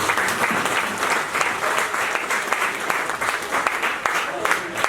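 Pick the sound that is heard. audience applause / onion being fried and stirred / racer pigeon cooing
audience applause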